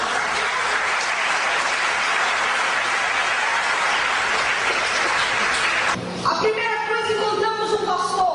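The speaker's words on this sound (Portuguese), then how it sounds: "Aplauda Jesus." A church congregation applauds during a pastor's testimony, steady loud clapping for about six seconds before it cuts to a sustained tonal musical passage.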